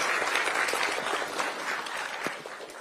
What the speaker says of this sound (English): if you can all stand and just stretch and clap for His Excellency the President.